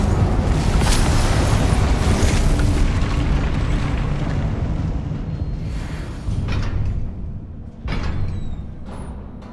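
A fiery Incendio spell blast in Hogwarts Legacy bursts as a loud, dense boom, then rolls into a crackling, rumbling tail that fades with a few smaller thumps and pops.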